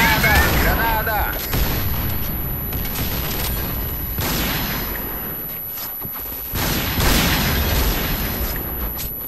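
Video game combat: a grenade explosion and bursts of gunfire boom and crackle loudly in dense, overlapping volleys, with a voice briefly heard at the start.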